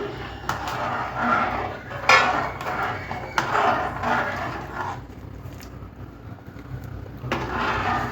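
A ladle scrapes and clanks around a pan as rice upma is stirred, giving a steady rough scraping with a few sharper metal knocks, up close.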